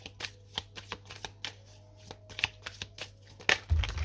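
Tarot cards shuffled and laid down at a reading table: a run of quick, close riffling flicks and taps, ending in a louder card slap.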